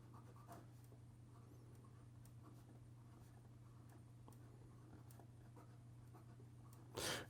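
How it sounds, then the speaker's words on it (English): Montegrappa Hemingway fountain pen with an 18 karat gold medium nib scratching softly across paper in short strokes, very faint and close over a low hum, with a louder rustle at the end. "So here we go with the writing sample for the Montegrappa"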